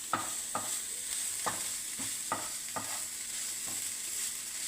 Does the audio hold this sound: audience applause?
no